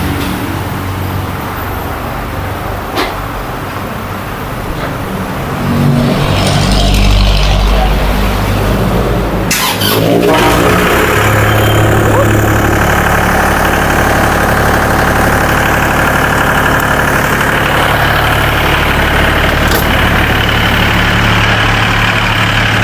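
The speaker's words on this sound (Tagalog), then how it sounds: "paki-start po yung engine natin" An ISEKI tractor's diesel engine turns over and then settles into a loud, steady idle close by, with a low knocking rumble holding through the rest of the clip.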